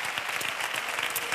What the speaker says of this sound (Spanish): Un fortísimo aplauso